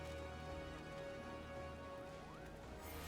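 Steady soft rainfall in Final Fantasy XIV, a faint continuous patter under a sustained game music drone, with no talk.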